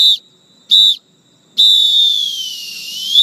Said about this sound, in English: you need to get everyone's attention with three strong bursts of your whistle.